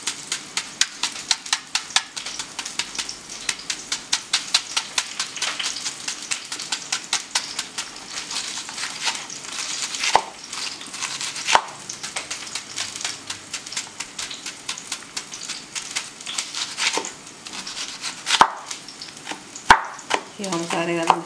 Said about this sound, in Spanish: Vamos a picar nuestra cebolla.